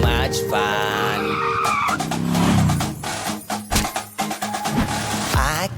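Cartoon race cars speed past with loud engine roars and long squealing tire skids, then a string of quick choppy screeches and revs, busy and close throughout.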